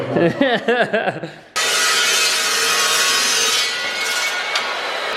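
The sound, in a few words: cutting a metal plate for a bracket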